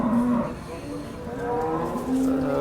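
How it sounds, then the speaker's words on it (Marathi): A Khillar cow moos at a busy cattle market, several drawn-out lowing calls close by over a steady crowd murmur. "गाय बघून घ्या चांगल्या क्वालिटीची गाय आहे"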